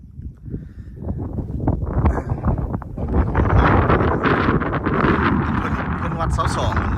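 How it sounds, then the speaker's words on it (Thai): Strong wind roars and buffets the microphone on top of Hua Lon mountain, building into a loud, continuous rush while someone talks beneath it. "อยู่เทิงนี่ลมแห้ง"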